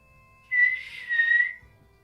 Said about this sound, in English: give a whistle for my brother to.